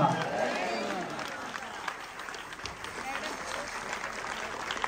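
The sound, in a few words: audience applause for the Haridasa singer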